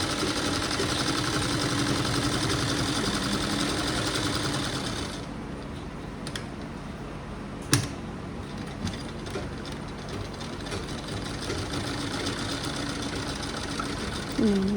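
Sewing machine running steadily while stitching a lehenga, a continuous mechanical whir that eases partway through with a sharp click, then carries on close and fairly loud.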